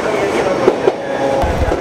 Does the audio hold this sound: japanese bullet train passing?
yes